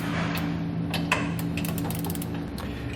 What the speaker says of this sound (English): I'm going to torque all my hardware down to the specified amount in the instructions